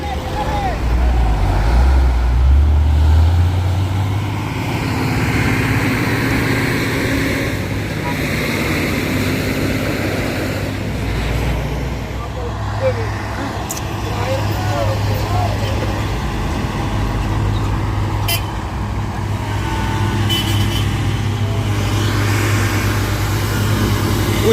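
A Mitsubishi Fuso truck engine roars steadily under load as it climbs a hill. The drone is loud, continuous and low-pitched, with voices talking over it.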